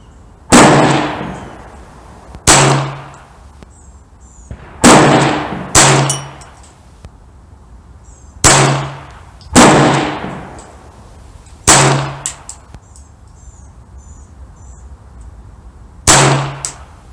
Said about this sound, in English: I'm going for the second 5-shot group. I'll be shooting at the right target of the middle right target.